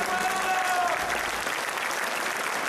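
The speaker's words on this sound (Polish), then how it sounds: "Wielkie brawa, proszę Państwa." Sustained applause from a boxing match audience, a dense steady roar of clapping held at full strength for the whole stretch, with no break.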